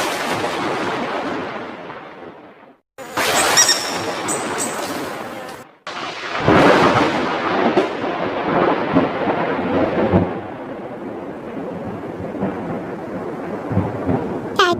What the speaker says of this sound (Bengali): আকাশে কি পরিমাণ বিদ্যুৎ চমকাচ্ছে, মনে হচ্ছে এখনই বৃষ্টি নামবে